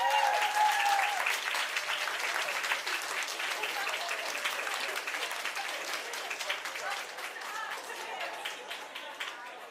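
Crowd applause for the women's 57 kg podium finishers at a British Open weightlifting competition, dense clapping with a few cheers that starts loud and slowly thins, with background chatter mixed in.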